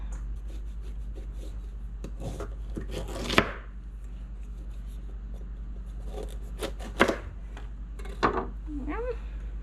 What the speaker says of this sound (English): now I'm going to crack open this pumpkin